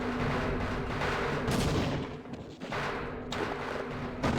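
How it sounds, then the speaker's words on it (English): Grenade blasts in Half-Life, a dense run of booming explosions and gunfire-like cracks layered continuously with no gaps, loud and close throughout. "Just keep chucking grenades up there."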